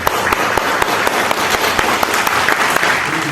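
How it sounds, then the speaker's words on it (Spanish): An audience at a university event claps for Osmar, a loud, dense burst of applause with a few sharper individual claps standing out, with no talk over it. "Fuertes aplausos para Osmar"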